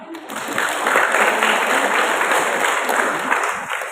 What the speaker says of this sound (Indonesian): terima kasih tepuk tangan semua